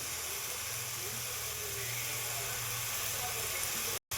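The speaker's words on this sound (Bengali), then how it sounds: "দেখো এখানে জিরে বাটা, একটু আদা বাটা আর একটু রসুন বাটা, এই বাটাটা আমি দিয়ে দিই।" Cumin, ginger and garlic paste sizzling in a hot pan for a banana flower dish: a loud, steady frying hiss close by that cuts out abruptly just before the end.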